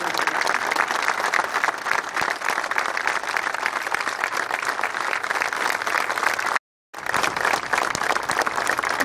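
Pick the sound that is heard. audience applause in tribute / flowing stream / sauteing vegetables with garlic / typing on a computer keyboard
audience applause in tribute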